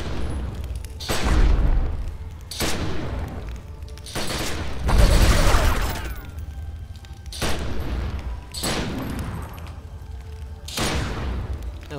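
An assault rifle firing explosive anima shot rounds in The Secret World booms out in five or six heavy, spaced blasts, each with a rumbling tail, loud and close with no talking.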